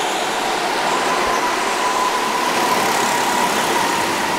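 Go-karts race around an indoor karting track, their engines making a steady, continuous drone at a fairly loud level that barely changes throughout.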